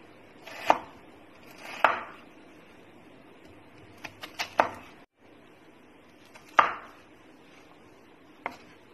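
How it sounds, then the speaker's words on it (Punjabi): An onion being coarsely chopped with a knife on a board, giving a handful of sharp, separate thuds spaced irregularly with pauses between, close and fairly quiet in a calm kitchen. "ਪਿਆਜ ਕੱਟ ਲਿਆ ਹੈ।"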